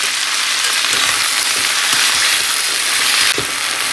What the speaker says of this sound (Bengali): ভেন্ডি আর আলু একসঙ্গে ভাজা হবে।